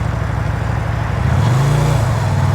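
A motorcycle from a government auction, its clutch slipping, is ridden along an access road; the engine drones steadily and close, then revs up to a higher, louder pitch partway through.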